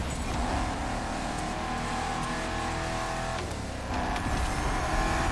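Eleanor muscle car engine in The Crew Motorfest video game, revving and accelerating with a rough, loud drone and a short dip before the throttle rises again.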